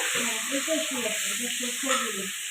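Potato and pointed gourd curry frying in a pan gives off a continuous sizzling hiss, close and steady, while a voice talks faintly over it.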